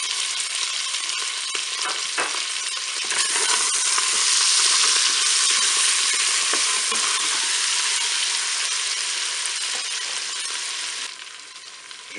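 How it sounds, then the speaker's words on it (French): Shallot pieces sizzle in hot fat inside a Cookeo multicooker pot for a creamy chicken paupiette dish, a close steady frying hiss that swells as they go in and eases toward the end, with no talk. "J'ajoute maintenant mes morceaux d'échalote."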